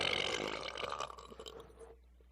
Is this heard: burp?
yes